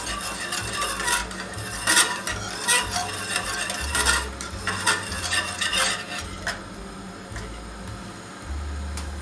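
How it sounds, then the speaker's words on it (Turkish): A spoon repeatedly stirs and scrapes inside a pot of tomato milk soup, giving uneven clinks and scrapes over a low background hum, with no talking. "şimdi bir taraftan karıştırıyoruz"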